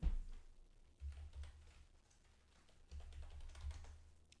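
Soft typing on a computer keyboard while entering a search in a Chrome browser, with quiet clustered keystrokes in short bursts and pauses, heard alone and close.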